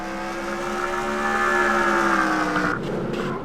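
Race cars at Bristol in a 2003 INORL Coke Vanilla Cup Series race, engines droning loud and steady with rising harmonic whine before a sudden shift near the end as a wreck unfolds.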